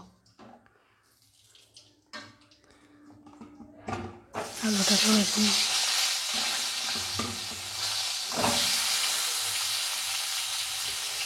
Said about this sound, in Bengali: এইভাবে একইভাবে আমি আলুটাকে ভেজে নেব